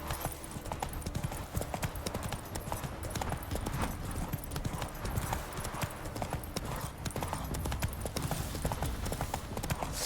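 Horse hooves clip-clop at a steady riding pace in The Witcher 3: Wild Hunt, a dense, even rhythm of thuds running without pause, close and moderately loud over faint background ambience.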